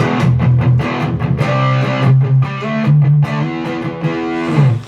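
Electric guitar played through a Wampler Slostortion pedal with the gain turned all the way up, giving a thick, loud distorted tone with heavy palm-muted chugs and sustained chords, no voices.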